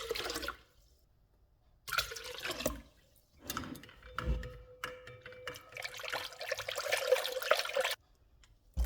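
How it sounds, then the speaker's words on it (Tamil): Water is poured into a mixer used to grind urad dal, swirled to rinse it, then tipped into Jaffna dosa batter, giving several bursts of splashing and gurgling liquid separated by short quiet gaps. "இந்த உளுந்து அரைச்ச மிக்சிக்குள்ளேயும் 3 கப் தண்ணி விட்டு அதையும் சிலாவி தோசை மாவுக்குள்ளே விட்டுக்கொள்கிறேன்."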